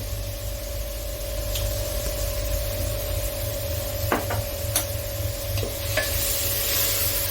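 Spices and ginger powder fry in a pan for a chicken curry, giving a steady close sizzle with occasional stirring scrapes and clicks, no voices.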